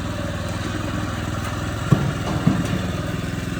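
The engine of a Hecht 2650 mini dumper runs steadily at a close, loud idle-like drone, with a couple of brief clunks partway through.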